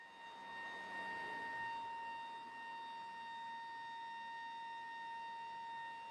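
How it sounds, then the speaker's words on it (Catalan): A factory siren holds a steady, sustained wail with bright stacked tones, sounding continuously at an even level for several seconds with no voices. "la sirena que tocava cada fàbrica"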